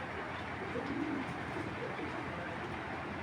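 A big female Chita Military pigeon coos softly a few times amid a steady background hum, with faint voices nearby.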